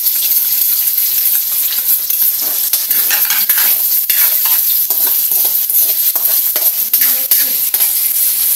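Garlic and dried fish fry in a pan for leftover-rice fried rice, making a loud continuous sizzle close up with occasional scrapes of stirring.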